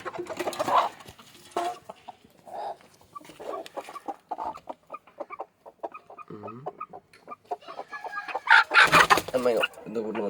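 Native country chickens cluck in a coop opened in the morning, with scattered close clucks and squawks, short pauses between them and a louder burst of squawking near the end.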